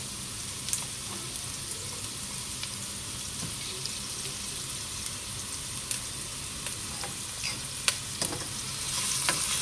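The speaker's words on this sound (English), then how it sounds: "And we have to stir this well. We have to mix it well." A spoon works through a bowl of pasta salad seasoned with salt and pepper, giving a steady soft wet scraping and clicking, close and continuous with faint background hiss and no speech.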